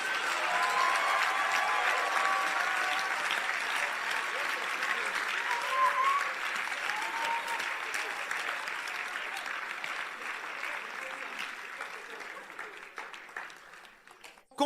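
Indoor audience applauding at a church gathering in Orlando, dense sustained clapping that stays strong at first and slowly thins and fades toward the end, with no voices over it.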